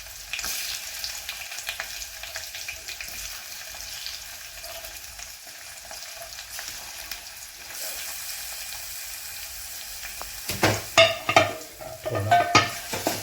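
Tomatoes, curry leaves and chopped chilli fry in a pan for a fish curry, giving a continuous close sizzle. Near the end, a spoon scrapes and clatters against the pan as the mixture is stirred.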